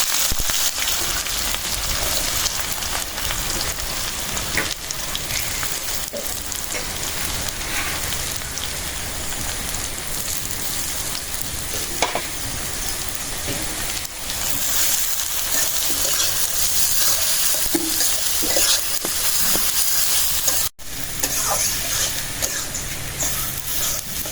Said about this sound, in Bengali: এই পেঁয়াজগুলি ভালো করে ভাজে নিন